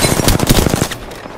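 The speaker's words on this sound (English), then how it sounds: "I am taking fire." Rapid automatic gunfire in the video game Apex Legends, a loud close burst of about a dozen quick shots lasting under a second, then fading out.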